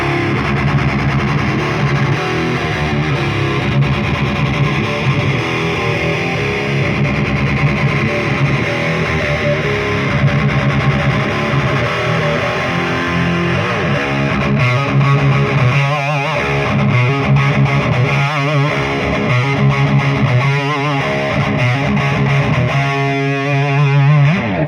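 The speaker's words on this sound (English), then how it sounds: "We're going to move on now, if that's cool, to the overdrive channel." Electric guitar played through the high-gain overdrive channel of a Soldano SLO-100 amp, thick sustained distorted chords and riffs ringing out with choppier rhythmic passages toward the end.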